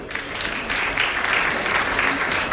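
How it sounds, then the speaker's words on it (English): Awards audience at a Sikhs in business awards event clapping, a dense steady round of applause from a sizeable crowd lasting the whole stretch at even volume. "With a big round of applause, I think."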